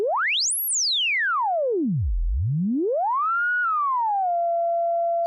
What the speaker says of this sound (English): I'll turn down oscillator 1 just so you can hear the resonant filter sound here.